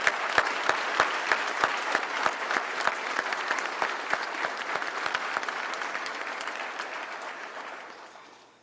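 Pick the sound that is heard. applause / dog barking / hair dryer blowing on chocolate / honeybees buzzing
applause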